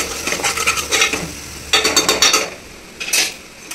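Ginger paste being stirred in a cooking pot with a metal spoon, bursts of loud scraping and clattering strokes against the pot over a faint sizzle, with short pauses between rounds of stirring.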